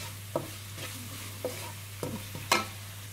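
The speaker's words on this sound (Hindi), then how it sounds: "और ये नमक ये डाल के थोड़ा सा फ्राई करूंगी।" Spring roll filling with green chili and salt fries quietly in a pan, a soft steady sizzle with a low hum beneath and several distinct spatula scrapes and taps.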